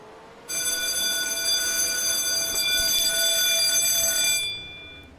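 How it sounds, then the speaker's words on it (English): A fire alarm sounds a loud, piercing continuous electronic tone that starts abruptly, holds steady for about four seconds, then cuts off, with no talk over it. "Someone set off the fire alarm."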